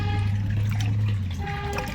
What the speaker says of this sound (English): yeah, we've got water topping back up